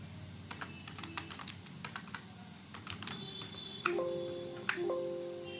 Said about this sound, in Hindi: टाइप करिए